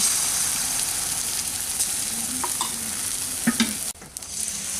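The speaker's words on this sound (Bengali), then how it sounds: "একটা হাতাতে করে কিছুটা পরিমাণ ব্যাটার তেলের মধ্যে দিয়ে দিলাম" Egg batter ladled into hot mustard oil sizzles loudly and steadily, with a few spoon clinks against the pan before the hiss briefly drops away, close up and without speech.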